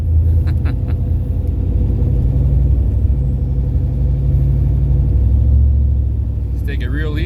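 A boosted LS-engined car creeps slowly around the block, its engine giving a low, steady idling rumble throughout, with a brief bit of speech near the end.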